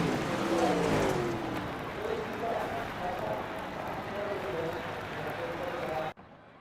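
Dirt Pro Late Model race cars at Lanier roar across the finish line of a heat race, engine drone rising and falling steadily under loud PA commentary before cutting off abruptly.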